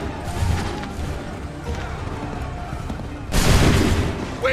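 Rolling musket volleys crack and boom in a battlefield scene from the video game Assassin's Creed 3, a ragged fusillade followed by a louder, denser burst of gunfire near the end, with shouted orders mixed in.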